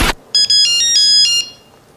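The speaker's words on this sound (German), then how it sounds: "was hier auch an Tönen ist in Handys." A mobile phone ringtone plays a short bright electronic melody of repeated tones at close range after a brief noise burst, then stops abruptly, with no speech.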